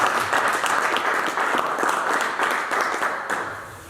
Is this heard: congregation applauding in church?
yes